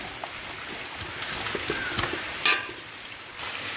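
Onions sautéing in a pan for Thalassery chicken dum biryani, a steady moderate sizzle with crackling pops and a few spoon scrapes and clinks, heard alone.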